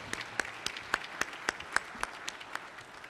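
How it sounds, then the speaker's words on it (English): Sparse, faint applause from a legislative gallery honoring Prudential Spirit of Community award winners, a handful of separate claps at a distance against a quiet room tone. "if we could just give a warm round of applause to both"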